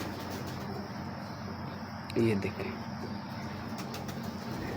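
Pigeons in a loft give a brief, low coo partway through over a constant murmur of birds, while someone speaks briefly nearby.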